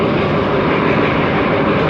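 A Puttalam to Colombo Fort passenger train runs at over 70 km/h, a loud steady roar of wheels and motion heard from on board, with no speech.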